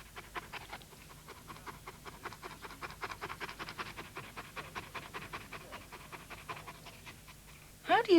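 A dog pants to cool down, with fast, even breaths that repeat steadily and close by for several seconds before a louder burst at the end.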